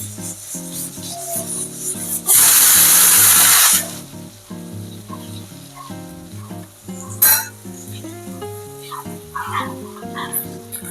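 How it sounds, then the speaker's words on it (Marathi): Loud oil sizzling bursts out for a moment as karli fish is turned over to fry in a hot pan, over steady background music. "दुसऱ्या बाजूने आता फ्राय करत ठेवूयात."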